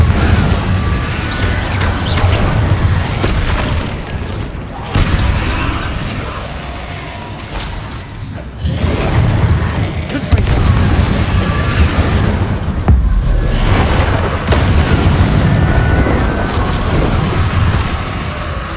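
Repeated Confringo blasting-spell explosions in the game Hogwarts Legacy, heavy booming bursts recurring every few seconds over a dense, loud battle din, with no speech.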